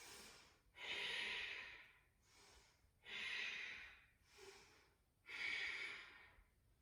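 Deep Ujjayi yoga breaths, three slow, long, throaty breath cycles drawn in and out close to the ear, with quieter pauses between them.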